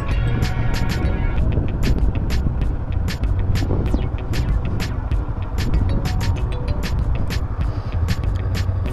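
A Honda CB Twister naked motorcycle being ridden drones loudly and continuously, with sharp ticking and rattling clicks recurring over the rumble.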